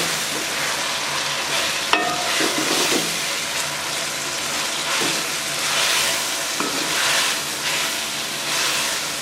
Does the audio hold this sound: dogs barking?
no